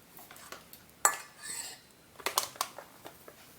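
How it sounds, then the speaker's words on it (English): A spoon stirring sugar into about a cup of warm milk in a bowl, giving a few light clinks and scrapes against the sides in short bursts, with quiet gaps between strokes. "Let's stir this a little bit so that the sugar dissolves."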